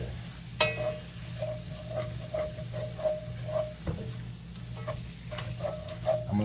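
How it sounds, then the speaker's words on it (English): Peppers fry and sizzle in a pan, a steady crackling hiss under a low hum, with repeated light scrapes and taps of stirring spaced through the whole stretch and no voices. "I'm going to let these peppers cook down."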